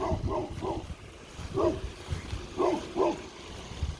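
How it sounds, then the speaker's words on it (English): A dog barks in short bursts, a quick run of three, a pause, then a single bark and a closing pair, fairly close. "Let's see what Perla's barking at."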